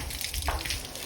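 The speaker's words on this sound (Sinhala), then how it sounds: "අපි වතුර පොඩ්ඩක් අල්ලගෙන ඉමු" Water splashing and running while a Bajaj N160 motorbike is being washed, a steady close wash of spray and trickle with a brief gush midway, no talk.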